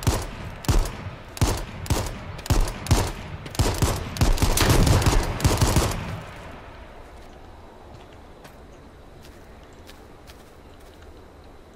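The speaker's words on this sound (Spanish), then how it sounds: "Mira, están disparando aquí." Rapid gunfire rings out in the H1Z1 video game, a dense volley of sharp, loud shots for about six seconds before breaking off into quiet background ambience.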